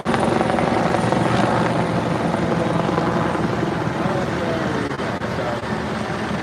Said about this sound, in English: Trying to show this pretty helicopter.